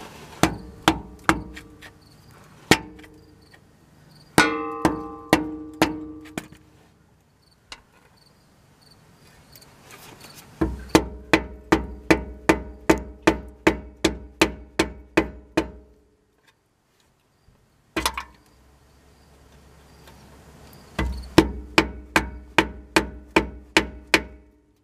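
A hammer strikes the differential cover of a 2004 Chevrolet Express 3500 Roadtrek van in sharp metallic blows, coming in rapid bursts of many hits separated by short pauses, close and loud.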